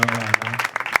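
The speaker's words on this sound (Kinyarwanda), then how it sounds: "nimukoma amashyi dushimire kaka" Audience applause breaks out at a Rwandan traditional engagement and dowry ceremony, a short burst of many hands clapping together with voices mixed in underneath.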